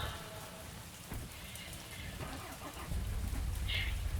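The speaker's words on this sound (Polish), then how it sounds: "Dobra, o, pada deszcz." Rain falls in the Mon Bazou video game as a steady hiss of drops on surfaces, with a low rumble growing louder near the end and no voices.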